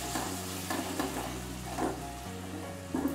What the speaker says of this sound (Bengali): একটু জল দিয়ে দিচ্ছি ওপর থেকে মশলাটা কষার জন্য।